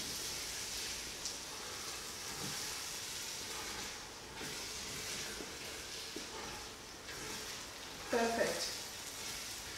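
Jollof rice simmers in a pot as a seasoning cube is stirred in, a soft steady hiss and bubbling with faint scrapes and a brief louder clatter near the end.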